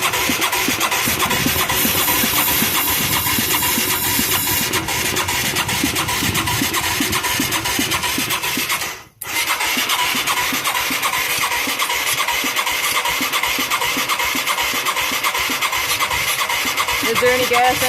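Mid-1980s Yamaha YFM200 Moto4 ATV engine running and revved with throttle, a steady loud rough engine drone with rhythmic pulsing that briefly cuts out midway before picking back up, with people talking nearby.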